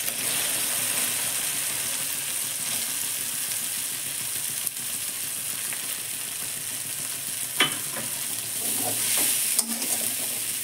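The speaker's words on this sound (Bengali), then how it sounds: "এই মোচাটা একটু ভালো করে ভেজে নেব।" Banana flower fries in a pan with ginger, a continuous close sizzle and hiss, with a few spatula scrapes and taps toward the end and no speech.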